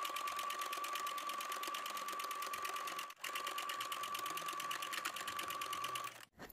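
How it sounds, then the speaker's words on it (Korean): A sewing machine stitches a bonnet's crown to its brim in a rapid, even run of stitches, pauses briefly midway, resumes, then stops near the end. "챙을 위쪽으로 놓고 박음질 하시겠습니다."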